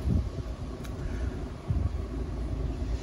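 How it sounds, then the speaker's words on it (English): Steady wind buffeting the microphone, a low rumbling roar with gusts swelling near the start and again midway, no voices. "it's pretty windy, the umbrellas want to come down"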